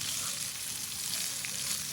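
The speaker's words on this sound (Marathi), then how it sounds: "आपण ह्यांना तेलामध्ये तेवढ्या वेळ भाजून घ्यायचे" Spiced fara dumplings for ukadichi fara sizzle steadily in hot oil, with a dense, even crackle that holds close and constant for two seconds and has no talk over it.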